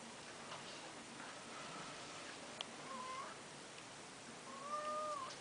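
A cat gives a few faint, thin meows from some distance in a quiet room, the last one slightly clearer.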